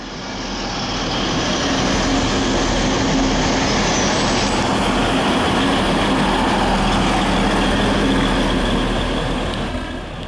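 Class 612 diesel multiple unit 612-112 at Stuttgart main station, a loud continuous engine rumble and rolling rail noise holding steady and close, with a high squeal briefly joining partway through.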